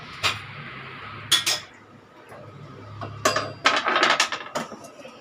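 A metal kadai (wok) is set on a kitchen stove while milk kesari is being made. Scattered close clanks and clinks of metal on metal come in short clusters over a quiet room background.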